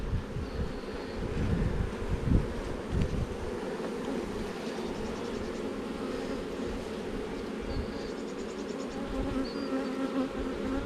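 Honey bees buzz steadily around a hive with a drone-laying queen, a dense continuous drone with individual insects passing close to the microphone.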